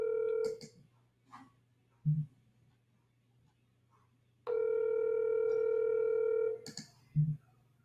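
Telephone handset with a long steady dial tone broken by short keypad dialing beeps, close and clear, with brief quiet gaps in between.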